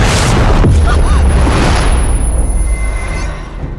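A bomb explosion in a drama scene: one loud, close boom that breaks into a rumbling roar and slowly fades over a few seconds.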